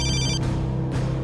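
A telephone rings loudly with a steady electronic bell tone, one ring burst followed by a short pause and another ring starting, with no talk.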